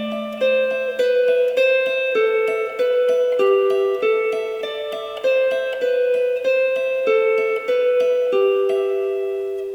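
The first section of a main theme, played on guitar as a steady run of picked single notes over a held low note, clean and close, with no talking.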